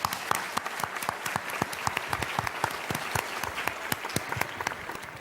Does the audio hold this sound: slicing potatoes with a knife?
no